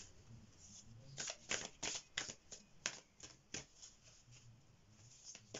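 Moonology oracle cards are shuffled by hand in a quiet room, a string of soft, quick riffling snaps coming in irregular bursts, close and faint.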